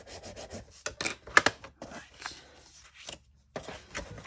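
Bone folder or burnishing tool rubbed along the edge of a handmade leather journal cover, giving several short, close scraping strokes with brief pauses, rhythmic and fairly quiet.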